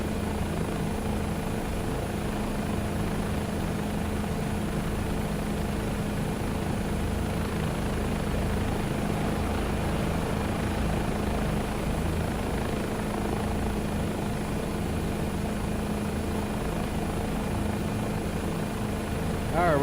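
Bell 407 helicopter in a flight simulator, its turbine engine and rotor making a steady, loud, continuous drone with a constant low hum that lasts the whole time, no talk over it.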